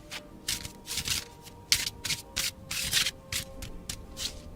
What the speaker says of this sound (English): I like how these cards shuffle.